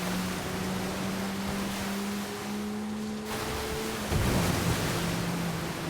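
A Defender off-road vehicle in a video game ploughs through water at speed, giving a steady broadband rush and splash over a low droning engine hum that swells briefly louder near the end.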